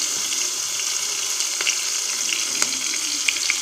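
Chopped onion, green chili and curry leaves fry in a hot pan with a steady, hissing sizzle, close and even throughout, with a few faint clicks and no voices.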